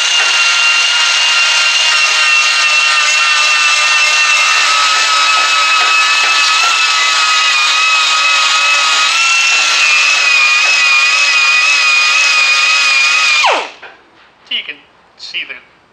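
A super fine abrasive grinds and polishes metal, giving a loud, steady whine with a shifting pitch for about thirteen seconds before it cuts off into a few faint handling noises.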